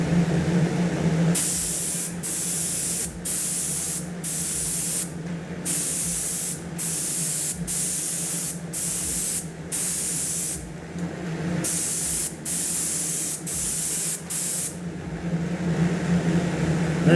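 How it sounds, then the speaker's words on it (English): A spray gun hisses out bluing coating onto a firearm in repeated bursts of a second or so each, separated by short pauses, over a low steady background hum. "And we're gonna grab the spray gun"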